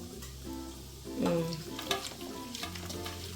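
Chicken masala frying in a pan while being stirred, with a steady close sizzle and scraping stir strokes throughout.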